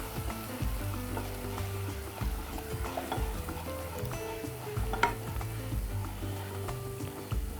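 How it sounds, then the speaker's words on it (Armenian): A pasta bake sauce mixture is stirred while liquid is added little by little, a quiet close bubbling and soft scraping with a few light clinks of a utensil, no talk. "Քիչ-քիչ ավելացնում ենք և խառնում։"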